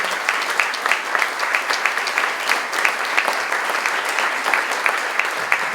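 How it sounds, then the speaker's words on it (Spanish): An audience applauding at the inauguration of an experimental theatre space, a dense, steady wash of many hands clapping throughout, close and sustained with no break. "Así que fuerte el aplauso."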